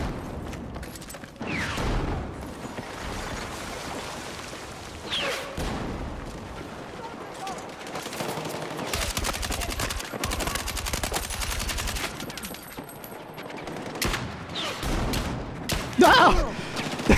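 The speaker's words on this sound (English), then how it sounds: "I can see bullets flying through." Video game gunfire crackles in repeated bursts of rapid automatic shots, some loud and close, others more distant, with scattered single cracks and impacts between them over a busy background.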